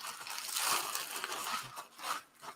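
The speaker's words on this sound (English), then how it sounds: "So here's the plastic bag." A plastic bag crinkles and crackles up close in quick irregular bursts of rustling, heard alone with no voices.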